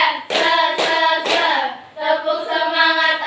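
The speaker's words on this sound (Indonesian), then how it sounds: "Tepuk semangat 1, tepuk semangat 2, tepuk semangat 3" A classroom group claps out the 'tepuk semangat' routine during a Bahasa Indonesia lesson, with a few sharp, evenly spaced claps that blend into loud chanted voices.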